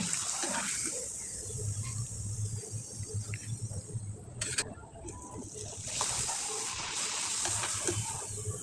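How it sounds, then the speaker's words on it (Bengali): Syringe pitha fry in hot oil with a steady, close sizzling hiss that swells and eases as pieces go in and come out. "এবার চলুন কয়েকটা পিঠা আমি ভেজে দেখিয়ে দিচ্ছি"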